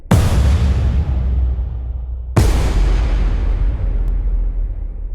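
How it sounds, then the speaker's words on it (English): Two heavy booming impacts, each a deep thud with a long rumbling tail, the second landing about two seconds after the first, loud and close. "That's the right impact, if you ask me"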